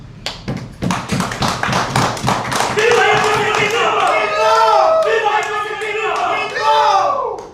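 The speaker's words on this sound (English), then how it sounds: "we should be given a good clap." Rhythmic hand clapping from a crowd at a political meeting in Uganda, then loud cheering and chanting voices swell and carry on over the claps.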